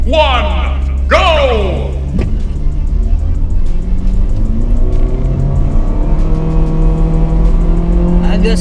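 An LMPV car launches hard in an acceleration test, its engine roaring and climbing through rising revs with a gear change, loud and close, while a voice talks over it.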